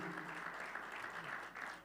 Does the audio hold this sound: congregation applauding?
yes